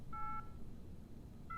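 Telephone keypad dialing tones, two short beeps separated by a pause, faint and clean over low background hum.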